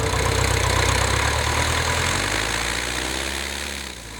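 A ski plane's engine runs steadily while taxiing, a loud, even drone with a strong low throb that fades slightly toward the end, heard alone with no talking.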